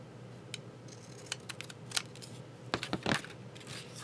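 Paper being cut with scissors for a vintage handkerchief junk journal page, a sequence of short crisp snips spaced irregularly, with a quick cluster of close snips near the end.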